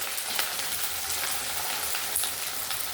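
Potatoes frying in a pan of oil with bay leaf and dried chilli, a continuous close crackling sizzle that stays steady throughout with no voices.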